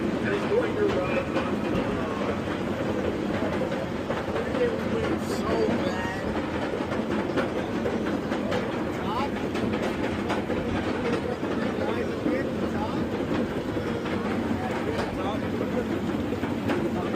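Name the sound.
Thunder Striker roller coaster train running on track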